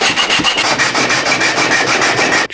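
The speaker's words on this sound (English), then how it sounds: "I need to sand this bottom surface first" Sandpaper rubs back and forth across the bottom surface of a wooden box in quick, even strokes, close and loud, a continuous rhythmic scratchy rasp.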